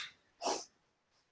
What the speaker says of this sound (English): Wait, I have to sneeze, hold on.